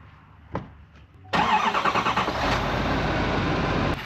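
A truck engine cranks and turns over, then settles into a loud, steady rumbling idle close by, after a few faint knocks.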